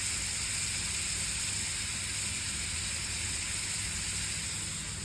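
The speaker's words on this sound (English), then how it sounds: "you'll see the butter start sizzling away" A large slab of butter sizzling in a hot pan while steak is cooked, a steady soft hiss and crackle that holds evenly throughout, fairly quiet and without voices.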